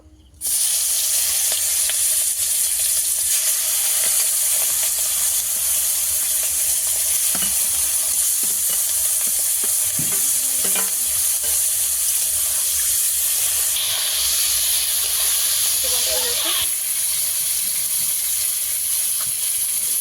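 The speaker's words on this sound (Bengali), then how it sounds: "গরম হয়ে গেছে, তেল দিয়ে দেব। একে একে চিংড়ি মাছগুলো দিয়ে দেব।" Freshly caught live river shrimp fry in hot oil, a loud, steady close sizzle that carries throughout with occasional stirring and spattering, no voices.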